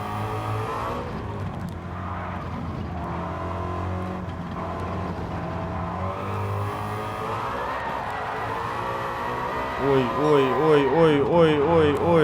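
Engine-swapped Ford Mustang in Gran Turismo 7 drones steadily under background talk, its engine note climbing toward the end into rapid rhythmic revving pulses as the throttle is worked harder.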